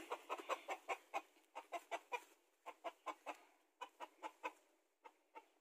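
Free-range hybrid chickens, one rooster and five hens, cluck in quick, close bursts, a steady string of short calls with brief gaps and no voices.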